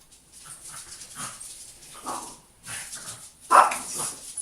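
Several short dog barks and yips, fairly close, in irregular bursts, with a sharper louder bark near the end.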